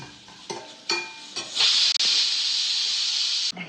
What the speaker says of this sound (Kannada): ಈರುಳ್ಳಿ ಅರ್ಧ ಹಾಕ್ಕೊಂಡು ಫ್ರೈ ಮಾಡ್ಕೊಳ್ಳೋಕ್ಕೆ 6 ಬೆಳ್ಳುಳ್ಳಿ ಹಾಕ್ಕೊಳ್ತಾ ಇದ್ದೀನಿ, 6 ಗೆಡ್ಡೆ, ಒಂದು 7 ಹಾಕ್ಕೊಂಡು ಇದನ್ನು ಚೆನ್ನಾಗಿ ಫ್ರೈ ಮಾಡ್ಕೊಳ್ತಾ ಇದ್ದೀನಿ